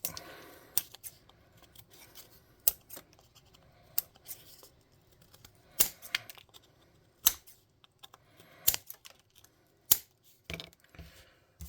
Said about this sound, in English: Let me get some scissors and kind of round that off.